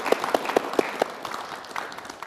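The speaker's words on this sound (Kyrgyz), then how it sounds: "Катуураак кол чаап берели." Brief burst of audience clapping at a TV casting show studio, a few sharp claps standing out over a moderate patter that fades quickly, with no talk over it.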